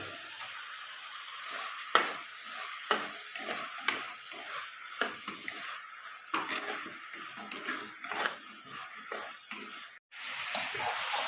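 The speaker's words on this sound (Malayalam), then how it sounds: "എല്ലാം കൊണ്ടൊന്ന് വഴറ്റിയെടുക്കാം ചെമ്മീനും കൂടെ ഇട്ട് കൊടുക്കുന്നുണ്ട്" Prawns sizzle softly in a pan while a spatula stirs and scrapes in repeated bursts; quiet, with no talking.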